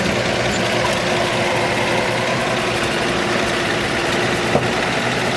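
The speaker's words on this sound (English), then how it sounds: "Straight 6 under the hood. Fires right up every time." A 1941 Chevrolet Master Deluxe sedan delivery with a straight-six engine idles steadily and evenly close by. The low, continuous rumble carries faint mechanical ticking and a single small knock near the end.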